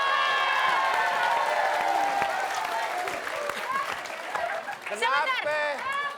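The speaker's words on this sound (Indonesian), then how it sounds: "Kita kasih tepuk tangan dulu dong." Studio audience applause on a comedy variety show, a dense wash of clapping and crowd noise filling most of the stretch, with voices and shouting coming through over it toward the end.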